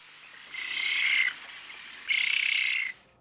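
An exotic bird such as a toucan or macaw gives two drawn-out, harsh calls, close and clear, separated by a short pause in otherwise quiet surroundings.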